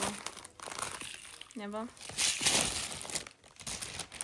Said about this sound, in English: And then this is the plastic bag.